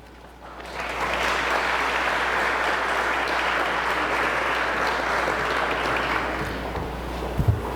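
Indoor audience at an Arkansas exhibit opening breaks into sustained clapping to welcome a speaker, starting abruptly and holding steady for several seconds before a few thumps near the end.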